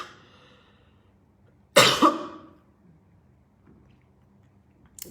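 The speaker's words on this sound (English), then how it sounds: "I'm coughing small. I'm very sorry about that." A person with a cold gives a single close, harsh cough burst after a faint trailing tone, followed by near silence.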